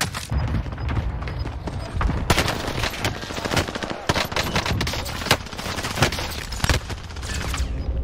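Rapid automatic gunfire from a video game shooter, dense repeated bursts and single shots filling the whole stretch, loud and close with heavy impacts throughout.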